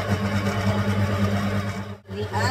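A stand mixer runs while mixing brioche bread dough made with eggs, salt and vanilla, giving a steady close motor hum and whir with a brief dip near the end.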